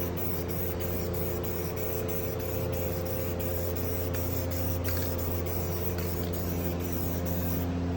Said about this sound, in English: Just spray down here too, why not?